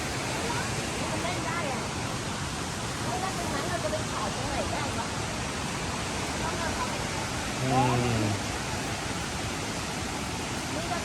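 Steady, dense roar of the Khlong Lan waterfall in Kamphaeng Phet on a cold day, with clear water. The rushing water fills the whole stretch evenly and close by, with faint crowd babble beneath it.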